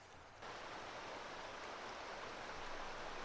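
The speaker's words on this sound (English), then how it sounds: "with the roar of the water, you can't hear some of the trucks sometime" Loud, continuous rushing water from a nearby creek, a steady broadband roar that swells in abruptly and holds.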